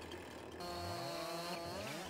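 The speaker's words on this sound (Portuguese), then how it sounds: "Essa motosserra estranha, velho." A virtual chainsaw in Farming Simulator 22 buzzes faintly, its motor whine rising in pitch as it bites into wood, a continuous revving tone heard alone.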